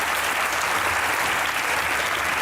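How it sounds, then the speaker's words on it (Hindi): An interview audience breaks into loud, dense applause, a steady wash of many clapping hands that holds at full strength without letting up. "तालियां होनी चाहिए।"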